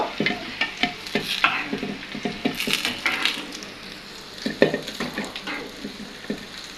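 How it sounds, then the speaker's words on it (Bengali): Sweets being fried in a pan, with a steady soft sizzle that sits under repeated stirring scrapes and clinks, up close and fairly quiet, with no talking. "এখন আমি মিষ্টিগুলো বানিয়ে নিছি, ভেজে ভেজেছি"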